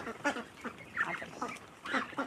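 Chinese and local domestic ducks quack in short, scattered calls at moderate distance, a few overlapping bursts against quiet outdoor background.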